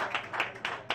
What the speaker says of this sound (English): Clap your hands for Ross, man.